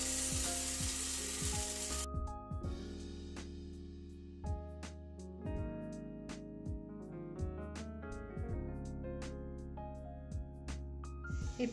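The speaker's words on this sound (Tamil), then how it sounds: "இப்போ நம்ம கலந்து வச்சிருக்க மாவை இந்த குழியில் ஊற்றிக்கலாம்." Kuzhi paniyaram batter poured into the hot oiled wells of a paniyaram pan, with a strong close sizzle that is loudest at the start and then settles under steady music.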